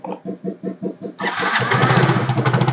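Motorcycle engine after a regulator rectifier (kiprok) swap: a run of rhythmic starter cranking pulses, then the engine catches and roars into a loud, rough idle close by.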